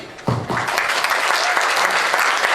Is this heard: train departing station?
no